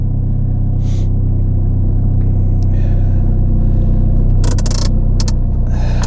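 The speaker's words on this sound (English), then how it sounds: "I'm gonna just drive around the neighborhood just to get the feel for it" A white Dodge SRT4 on its first drive around a neighborhood after new suspension and wheel bearings, a steady low engine and road rumble from inside the car, with a few brief rattles and clicks.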